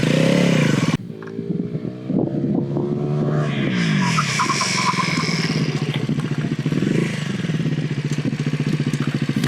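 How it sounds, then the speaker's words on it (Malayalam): Bajaj Pulsar NS400Z motorcycle with a 373cc single-cylinder liquid-cooled engine and ABS, run through a hard braking test: a loud engine roar that drops abruptly, then revs and clatters on, with no talk. "ഇത് നമുക്ക് ഇതിൻ്റെ ബ്രേക്കിംഗ് ടെസ്റ്റ് നടത്തി നോക്കാം."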